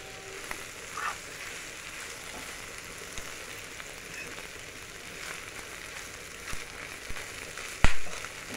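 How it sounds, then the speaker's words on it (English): A one-pot pasta meal is stirred in a cooking pot, a soft, steady sizzle and bubbling with faint scrapes and a louder clink near the end, no voices. "now I'm gonna stir everything together"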